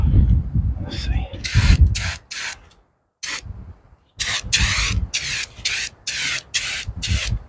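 A spray can spraying paint during a tail light replacement on a vehicle build, short loud hissing bursts in an irregular series, close by.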